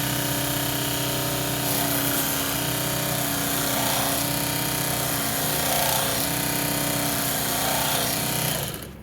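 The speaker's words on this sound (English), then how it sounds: "first I'll show you just how great this belt sander is" A belt sander runs continuously at full power, a steady loud mechanical whine and rumble that holds level throughout and then cuts off abruptly at the very end.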